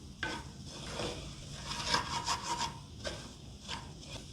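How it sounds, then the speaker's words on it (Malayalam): A spoon scrapes and rubs around a clay pot while masala for chicken curry is sautéed, giving repeated gritty strokes in an irregular rhythm, close and fairly quiet with no talking. "ഇനി നന്നായി ഇതിൻ്റെ പച്ചമണം പോകുന്നത് വരെ നമുക്ക് വഴറ്റിയെടുക്കാം."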